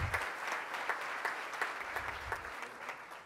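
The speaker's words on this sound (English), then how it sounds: "Would you give them a big round of applause, please?" Audience applause at a Rotary Club luncheon meeting in Tulsa, welcoming guests: a steady wash of many hands clapping at moderate volume, continuous for the whole stretch with scattered sharper claps.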